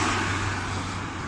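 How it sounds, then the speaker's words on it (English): Steady road traffic roars past close by as someone walks alongside a busy roadway, a continuous broadband rumble with no talk. "it might be a bit noisy because I'm out walking alongside the traffic"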